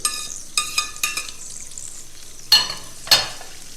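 Spoon clanking against a pot of stew with daylily and black wood ear fungus, several sharp ringing knocks in a quick cluster, then a pause and two more, close and clear.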